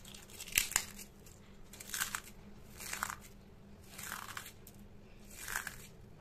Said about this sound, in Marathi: तुम्ही पापडाचा कुरकुरीत आवाज ऐकलाच असेल